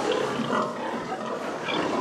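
Pigs grunt and squeal steadily in a sow barn pen as a boar is walked past the sows, a close, busy mix of animal noise with no talking.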